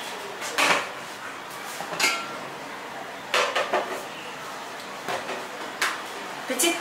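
Metal pots and utensils clatter and clank in a home kitchen as a cooking pot used for boiling plantain is lifted off the stove, with several sharp knocks spread over several seconds.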